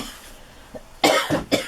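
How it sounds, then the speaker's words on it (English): Harsh coughing from an adult indoors, a faint throat sound followed by two loud, close coughs in quick succession. "Sorry about the coughing."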